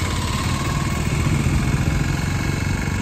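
Engines idle in heavy festival traffic during a Raksha Bandhan crowd, with a steady, loud, continuous rumble and motorcycle-like chugging holding throughout and no clear voices.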